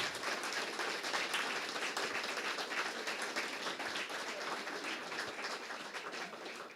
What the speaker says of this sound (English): So another big round of applause for our contestants this evening.